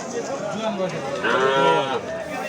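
A cow with a calf lows loudly nearby at a cattle market, a drawn-out moo rising and falling, with people talking around it.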